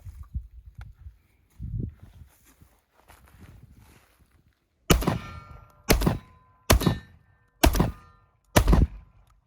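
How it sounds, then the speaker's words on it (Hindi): Five sharp, evenly spaced clunks of 3.25-inch Turkish shotgun cartridges being pushed into an Akkar Churchill 212 shotgun, each a loud close knock following a few softer handling bumps. "अब मैं टर्किश राउंड डाल रहा हूँ इसके अंदर"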